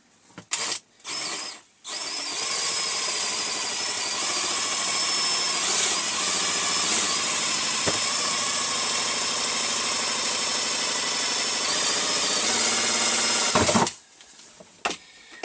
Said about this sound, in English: So I'm just going to drill a little hole right here.